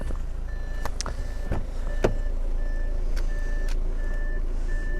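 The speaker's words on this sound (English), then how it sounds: "it's just beeping at me because I've left it running." An Audi A6 left running emits a regular series of short, evenly spaced electronic warning beeps, moderately close, over a steady low engine hum with a few clicks and knocks in between.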